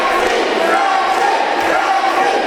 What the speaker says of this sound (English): And the crowd getting behind Aaron Matthews